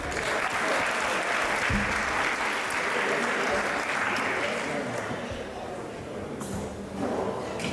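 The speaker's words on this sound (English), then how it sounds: "Round of applause for us, I guess?" Wedding reception guests applauding, a dense sustained round of clapping filling the room for several seconds, fairly loud with some voices mixed in.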